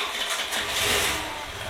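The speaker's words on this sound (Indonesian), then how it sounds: "posisikan langsam terendah, tapi dia masih bisa" A Honda Vario 110 scooter engine idles at its lowest setting after repair work for misfiring and loss of power. It makes a steady, close, low mechanical hum with a slight uneven flutter, with no voices over it.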